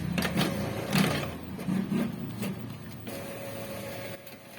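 An Epson L3110 inkjet printer runs a power cleaning cycle, giving soft mechanical whirs and clunks that come in uneven pulses, then settle into a faint, steady hum at low volume.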